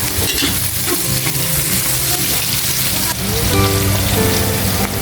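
Food is stir-fried in a pan still holding oil from frying fish, with a steady loud sizzle and a brief dip partway where the stirring scrapes resume.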